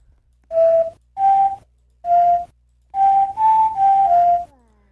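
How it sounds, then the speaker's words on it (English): Someone whistles a short tune of seven clear sustained notes, close and loud, with brief pauses between the first few and the last ones run together, against near silence. "It's like somebody whistling."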